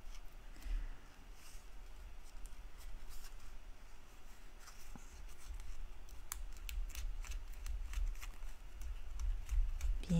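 Scissors cut through paper for a fold-over card, a quiet run of small snipping and crinkling clicks scattered across the clip.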